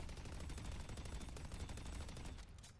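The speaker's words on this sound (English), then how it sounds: "You got a heavy machine gun here." A heavy machine gun fires in Valve's Deadlock, a rapid, unbroken stream of fairly quiet shots for nearly three seconds before cutting off.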